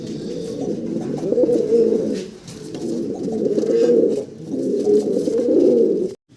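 White Coat Archangel pigeons coo close by in three rolling, throaty phrases separated by short pauses, with no voices over them.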